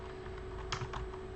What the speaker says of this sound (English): how do you write it in a QWERTY keyboard?